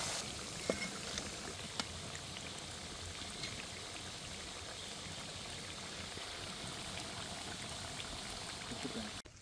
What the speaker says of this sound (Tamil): அதே மாதிரி இப்போ அடுத்த செட்டையும் போட்டிருக்கிறோம் இப்போ எண்ணெய் நல்லா அதே சூட்டில் இருக்குது